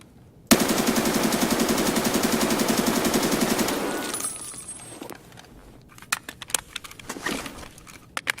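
A long burst of rapid automatic gunfire in the video game Escape from Tarkov, heard through ComTac 2 headset gear, rattles for about three seconds, then stops, followed by scattered clicks and light footstep-like taps.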